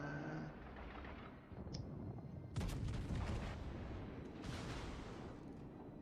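Naval gunfire from a Benson destroyer in World of Warships: Legends, a muffled distant boom rumbling at mid-clip followed by a second softer report, with low background noise of the battle around it.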